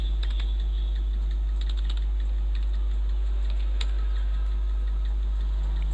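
A name is typed on a computer keyboard into Tally ERP.9 accounting software: quick bursts of light key clicks, close and crisp, over a constant low hum.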